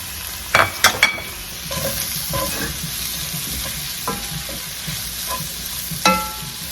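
Shrimp and potatoes stirred in a hot frying pan, with a steady close sizzle under several sharp utensil clinks and scrapes, a cluster early on and another loud knock near the end, with no talking.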